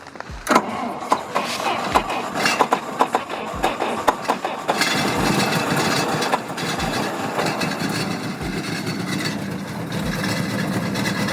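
An old GAZ M20 Pobeda car's engine is cranked in a forest, first with repeated starter whirs and rhythmic thumps, then catching into a rough, loud, uneven running rumble that continues steadily.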